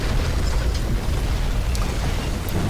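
In War Thunder simulator battle mode, an enemy shell strikes a tank's ammunition and sets off a deep, rumbling explosion that swells and fills the clip without talk.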